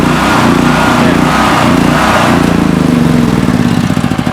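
Portable emergency generator engine running loud and close as its carburetor runs dry, a steady chugging drone that turns to rough, pulsing bursts near the end as fuel runs out.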